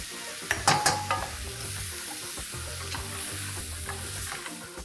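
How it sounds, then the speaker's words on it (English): Onions, tomatoes and cashew nuts fry in a pan with a steady sizzle while a utensil stirs them, scraping and clinking a few times near the start, then a continuous close crackle. "Next goes in roughly cut tomatoes, and along with this we're going to add in some cashew nuts."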